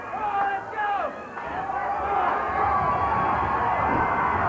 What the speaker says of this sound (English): He's getting this crowd pumped.